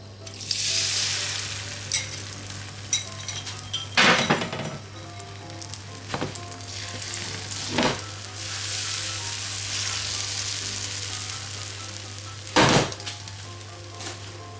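Beaten eggs frying in a large greased pan, a loud steady sizzle with several sharp scraping or tapping hits of a utensil against the pan.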